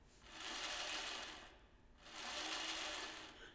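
A kids' electric scooter motor runs in two whirring bursts of roughly a second and a half each, split by a short pause, steady and fairly close with nobody talking.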